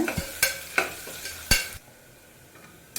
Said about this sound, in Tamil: இப்போ இதில் நீளவாக்கில் கட் பண்ண ஒரு மீடியம் சைஸ் வெங்காயத்தை சேர்த்துக்கோங்க வெங்காயம் பொன்னிறமாக வரைக்கும் வதக்கிக்கோங்க